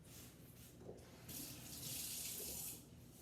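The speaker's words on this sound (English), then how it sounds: "So I'll just go and rinse it off." A vegetable is rinsed under a running kitchen tap, a soft steady hiss of flowing water that swells briefly louder in the middle, quiet and close with no talking.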